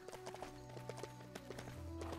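Horse hooves clip-clop in a steady walking rhythm in the LEGO Worlds video game, faint and continuous under a constant game background.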